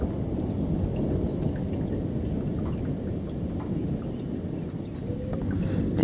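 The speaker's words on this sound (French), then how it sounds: "Et à chaque fois, un coup de tonnerre." A deep, continuous rumble of distant thunder from a night storm in Amboise, France, rolls on without a break, low and heavy, with faint rain-like patter over it.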